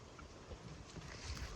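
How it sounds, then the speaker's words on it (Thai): Strong wind blows steadily outdoors, a broad rushing roar buffeting the microphone with low gusty rumbles and no voices. "ลมแรงมากเลย ลมแรงจริง"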